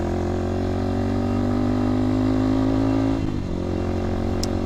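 A motorcycle rides along a rough, potholed road on the Kasiguran Peninsula, a loud, close, steady engine drone that dips briefly near the end before carrying on.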